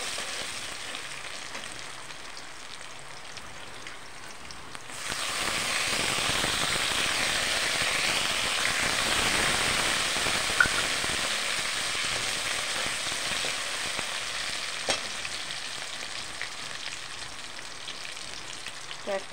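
Peanuts frying in a pan for lemon rice: a quiet stretch, then a steady sizzle that swells in at about five seconds and continues with faint stirring clicks and occasional sharp taps, no talking.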